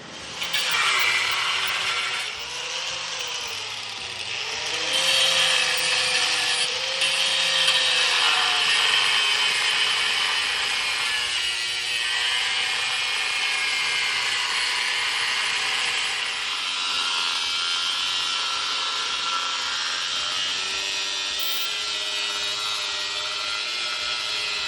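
Hard steel being cut during removal of a 98 GT transmission: a loud, steady broadband hiss and grinding roar with a few tonal streaks, running continuously for about 25 seconds with no speech.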